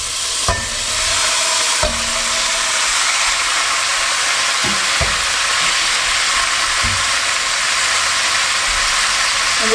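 Beef browning in a pan of butter and olive oil, sizzling loudly and steadily from start to finish with several dull thuds and scrapes as pieces are set down and moved.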